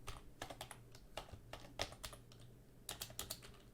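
Rapid, uneven keystrokes on a computer keyboard while HTML code is entered in a code editor, close and clear with short pauses between bursts of clicks and a steady low hum underneath.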